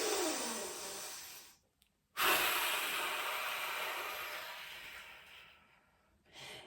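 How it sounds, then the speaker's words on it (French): A deep, steady inhale during a wall Pilates breathing exercise, a broad airy rush that runs loud for about two seconds, cuts off briefly, then returns as a long sustained breath that gradually fades before a short final breath. "Donc, on inspire."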